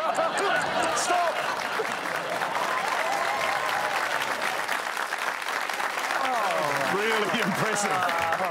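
Studio audience applause on a comedy panel show fills the whole stretch, a dense, steady wash of clapping with a few cheers and laughs mixed in, loud and sustained throughout.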